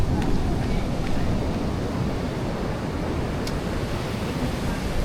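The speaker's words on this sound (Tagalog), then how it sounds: "Grabe yung alon." Heavy surf on a beach in Bataan, a steady broad roar of breaking waves with wind buffeting the microphone, continuous and close with no clear gaps between swells.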